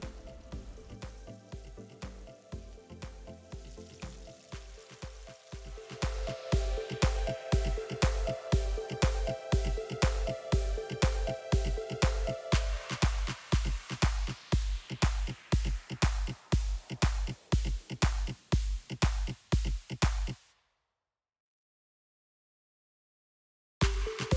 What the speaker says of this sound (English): Sear on each side for 4 minutes until a brown crust forms